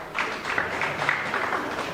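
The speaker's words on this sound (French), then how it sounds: "Des applaudissements pour les États-Unis d'Amérique," Attendees applaud during the opening ceremony of the Saint-Louis Jazz Festival, 2026 edition, a steady mid-level ripple of clapping from a fairly sizable crowd, even and unbroken across the moment.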